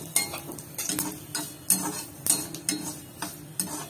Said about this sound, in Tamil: காஞ்ச மிளகாய் போட்டுக்கலாம். இது கொஞ்சம் ரோஸ்ட் பண்ணிட்டு கடலையை போட்டுக்கலாம்.